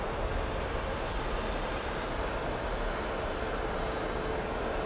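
An airplane taxis at Heathrow Airport, heard as a steady, broadband jet engine rumble and roar from a distance, unbroken and fairly loud throughout.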